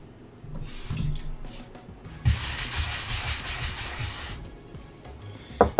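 A kitchen cutting board scrubbed under running water at the sink, with rough rubbing strokes over a steady hiss of flowing tap water and a couple of knocks near the end.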